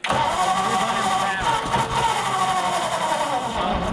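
A Ford Flathead V8-60 in a hot rod runs at full throttle after sitting for years, a loud continuous close-up engine roar with steady rasping tone, people talking under it.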